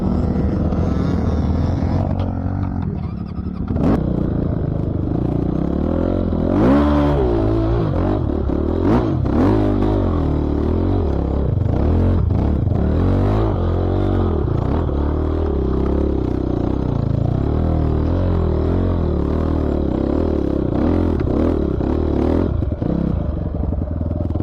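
A new Gr8 NC300S motorcycle is ridden on the Suvorovo race track before a race, its engine droning continuously with rising and falling revs over a rush of wind and road noise, no voices.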